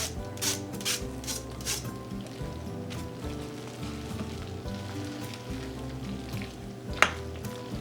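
Cooked macaroni is stirred into a crock pot casserole, giving soft, wet squelching and scraping in gentle repeated strokes, with a brief sharp clink near the end.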